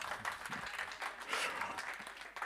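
An audience at a Christian gathering applauds to welcome a speaker, a lively, uneven burst of many people clapping that swells and dips, heard without talk.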